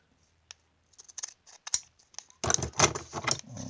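A screen-cleaning wipe packet for a tempered glass screen protector is cut open with scissors: a few faint snips and crinkles, then a louder, denser burst of rustling plastic and cutting close up.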